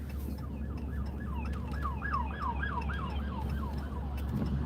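An emergency vehicle siren wails in a steady rising and falling pattern at moderate distance after a tornado, sounding over a constant low rumble of wind and engine noise with no talk.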